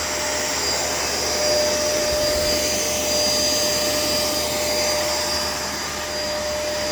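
A Shark LA702 vacuum cleaner runs steadily and loudly throughout, its head not disengaging, a constant whining motor drone with a slight dip and swell in level, no voices.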